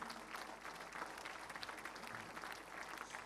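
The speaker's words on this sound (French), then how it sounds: "Et je vous demande de les applaudir." Audience applause at a festival opening evening in a hall, steady dense clapping from many hands throughout, moderately distant with no voices on top.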